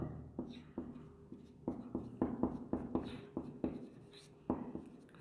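Repeated quick tapping and scratching strokes of writing on a board during a ninth-grade chemistry lesson, a close, uneven rhythm of a dozen or so marks with short pauses between bursts.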